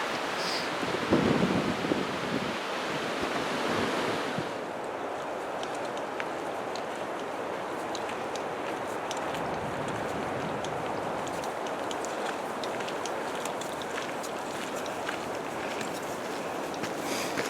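Wind blows through a Cairngorm pine forest at a wild camp, making a constant broadband roar with gusty buffeting against the microphone that lasts the whole time.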